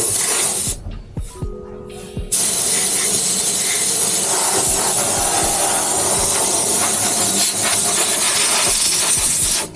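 Compressed air blasts onto a Bajaj Maxima Z engine during an engine wash near the oil filter, a few short bursts then a loud continuous hiss that runs steadily close to the microphone.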